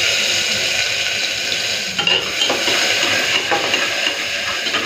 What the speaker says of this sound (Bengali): তো তেলের মধ্যে প্রথমে রসুনটা দিয়ে ভেজে নিলাম